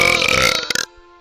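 A single loud, rough burp rumbles close to the microphone for most of a second, then cuts off to a brief quiet tone before a faint sound resumes.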